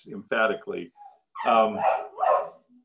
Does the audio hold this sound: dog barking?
yes